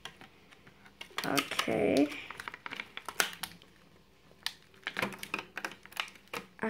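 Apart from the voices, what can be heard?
cutting a Disney Elsa figure out of its packaging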